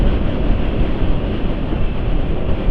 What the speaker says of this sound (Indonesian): suara mesin masih halus